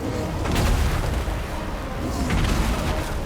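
Chaos Dwarf cannons fire in a Total War Warhammer battle, a rumbling barrage of deep booms and distant blasts rolling continuously with a few sharper bursts, no talk over it.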